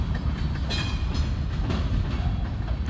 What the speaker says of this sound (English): Got to see Kansas City Southern train moving.